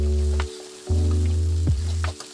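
Hotdog pieces with oyster sauce sizzle in a frying pan as they are stirred, a steady frying hiss broken by two short pauses and a few scraping clinks of the spoon, with no talking.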